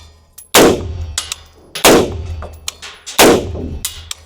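Three sharp rifle shots from a Colt IAR, an AR-15 style rifle with a mil-spec trigger, fired outdoors at an even pace, each loud crack followed by a short ringing decay.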